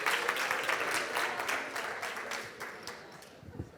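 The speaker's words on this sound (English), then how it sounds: "Give Ben a round of applause." Applause at a business summit as Ben is called up on stage, a steady crowd clapping that stays fairly loud and slowly thins out across the few seconds, with a faint voice underneath.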